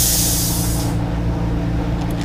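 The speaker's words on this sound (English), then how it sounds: "for as much as I airbrush, and this is day in and day out" Airbrush spraying paint onto a craw popper fishing lure, a steady close hiss that stops after about a second, while the air compressor keeps up a continuous low hum.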